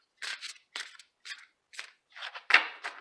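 Tarot cards shuffled in a series of quick papery riffles and flicks, several short bursts with brief pauses between, close and fairly crisp, ending in a louder snap of cards.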